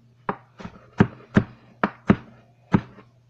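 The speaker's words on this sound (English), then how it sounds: "Just cut it. Small thin slices also." A knife slices thin strips of cabbage on a cutting board, seven distinct close thunks at an uneven but regular pace, each a sharp knock with a short tail, no talking.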